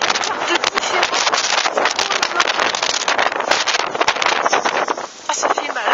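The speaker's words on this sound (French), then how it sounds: "Punaise, ce vent de fou." Strong storm wind gusts from the gale called Hans in Tour-en-Sologne, Loir-et-Cher, roar loudly and steadily into the microphone with buffeting bursts throughout, and a voice speaks over the wind.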